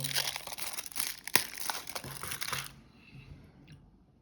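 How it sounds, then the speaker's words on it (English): The aluminum foil wrapper of a bar of Lindt 90% dark chocolate crinkles up close in quick, crisp rustling bursts with one sharper crackle, then stops, leaving near silence. "It's wrapped in this aluminum foil."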